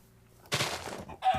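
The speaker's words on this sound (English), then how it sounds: "We're finding lots of chickens here." Two quick bursts of Minecraft chicken clucking, the first longer and the second short, against near silence.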